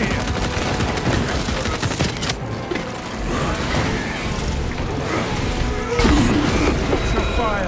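Gunfire rattles through a Warhammer 40,000 video game battle, rapid volleys and bursts of shots mixed with impacts and clanking, with brief voices over the din.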